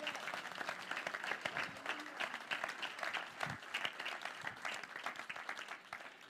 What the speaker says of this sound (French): Est-ce qu'on peut applaudir Jésus ?